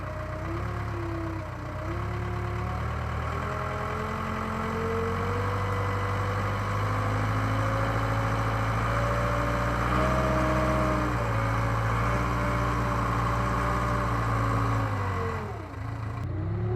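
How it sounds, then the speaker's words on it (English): Backhoe engine working under load in four-wheel drive, pulling a truck, trailer and tractor up a hill by chain; a steady, loud diesel drone with shifting pitch, dipping briefly near the end. "didn't have any problems pulling the truck and trailer and tractor back up that hill"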